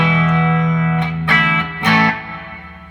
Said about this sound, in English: You'll hear kind of the difference between the attack of the note and where the reverb starts to come in.